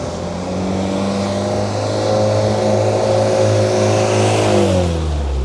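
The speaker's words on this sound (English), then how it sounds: "So you have a lot of cars coming this direction." Cars drive past on a narrow street in St Lawrence, Barbados, engines swelling and accelerating close by in a steady, continuous stream of traffic noise with no one talking.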